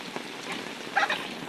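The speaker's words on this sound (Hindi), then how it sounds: "बारिश दिखा देता हूँ, बहुत जोर से पड़ रही है।" Heavy rain pouring steadily outdoors, a soft continuous hiss with a few brighter splashes and drips standing out, moderately faint and without talk.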